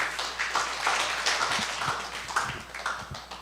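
A room of pastors at a Jeonbuk presbytery evangelism camp ministers' meeting claps in greeting: a steady patter of many hands at moderate distance, holding even through the whole stretch with no voices over it.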